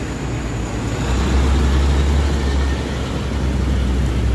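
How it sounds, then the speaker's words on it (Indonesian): An antique medium-sized bus rolls past at a roundabout in Kartasura, its low engine rumble loud and steady, with other road traffic droning behind and no one talking. "Dan ini ada bus medium antik ya"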